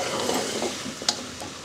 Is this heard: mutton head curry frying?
yes